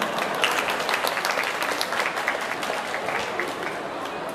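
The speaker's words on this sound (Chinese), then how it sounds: "现场的朋友，让你热情的掌声欢迎他们。" An audience at the 2018 Summer Love Kaohsiung cosplay contest applauds the sixteenth group, South District Lightsaber Alliance, with dense, even clapping that stays loud and close for several seconds with light crowd murmur.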